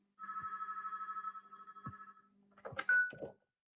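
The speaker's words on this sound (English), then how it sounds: "pardon the ringing" A telephone rings in a series of electronic trills in a quiet room during a webinar, followed by a few clunks and handling sounds.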